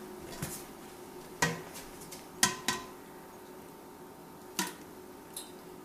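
Homemade applesauce scooped from a pot into a pan: a few sharp clinks and scrapes of a utensil against metal cookware, irregularly spaced and close, with quiet gaps between.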